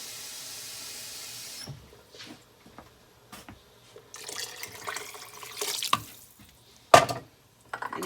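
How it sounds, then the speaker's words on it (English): Water streams steadily from a tap into a soup pot for chicken artichoke bean soup, then cuts off, leaving scattered clanks, splashes and handling noises up close. "Then we're gonna add our water. So I'm gonna add about 8 cups of water."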